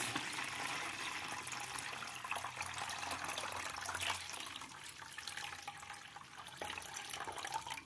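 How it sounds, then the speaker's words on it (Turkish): Two litres of plain water pouring into a pickle mix of lemon salt and salt, a steady, fairly quiet splashing stream heard on its own with no talking. "ve 2 litre normal suyumuzu ekliyoruz"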